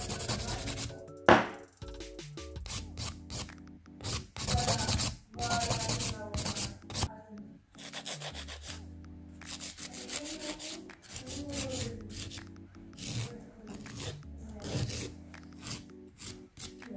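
A gel nail being shaped with a nail file: quick back-and-forth rasping strokes, close and crisp, in bursts with short pauses between them.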